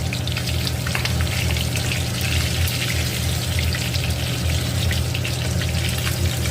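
Pieces of rohu fish deep frying in hot oil, a loud, dense, unbroken bubbling sizzle with crackling pops that stays close and steady throughout.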